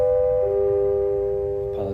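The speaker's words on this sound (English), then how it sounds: "apologies for the bell" A bell rings with a single sustained electronic tone holding steady for over a second before cutting off, fairly loud, followed by a brief noisy burst.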